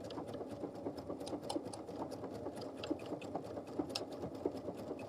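A sewing machine stitching decorative Bobbinworks stitches to embellish a bag, with a steady fast mechanical whir and rhythmic needle clatter running throughout at a moderate distance, with no voices.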